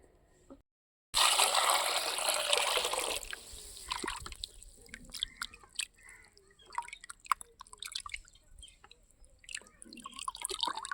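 Peeled prawns washed under running water for a tamarind prawn curry: a loud burst of rushing tap water, then close splashing, dripping and wet handling sounds.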